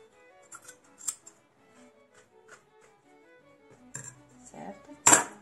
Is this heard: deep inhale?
no